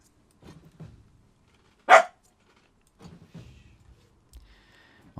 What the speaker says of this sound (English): My wife's having lunch and the dog is insisting on his share.